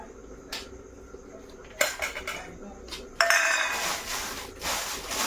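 A spoon scrapes and clinks against a metal pot while dates, cashew-almond paste and jaggery are mixed, sporadic clanks early, then a sustained louder scraping stir, close by with no talking.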